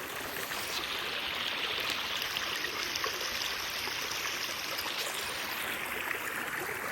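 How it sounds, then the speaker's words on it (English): A small stream flowing beside a hiking trail in Shenandoah, a steady, soft babbling and trickling of water that continues evenly throughout with no voices. "Very nice stream."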